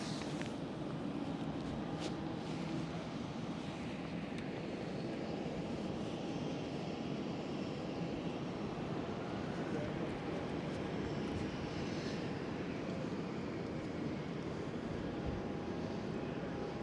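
An Air France A220 airliner takes off from runway 24 at Amsterdam Schiphol, a steady, continuous jet roar holding at a distance throughout.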